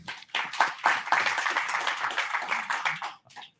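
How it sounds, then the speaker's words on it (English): Small audience applause at a firmware technology conference as two Google speakers are welcomed to the stage, crisp individual hand claps building into a steady patter and then stopping abruptly. "please have a round of applause for Ganshun Lim and Ryan O'Leary"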